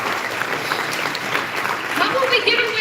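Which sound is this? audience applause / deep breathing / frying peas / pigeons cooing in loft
audience applause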